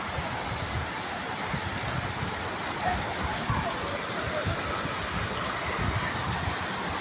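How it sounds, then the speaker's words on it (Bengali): Steady rain falls outdoors at a wedding house, with rainwater running in a stream; a continuous broadband wash of rain and flowing water holds at an even level throughout with no distinct voices. "বিয়ের বাড়ি কিন্তু স্রোত বইতেছে, বৃষ্টির স্রোত দেখতেই পাচ্ছেন আপনারা"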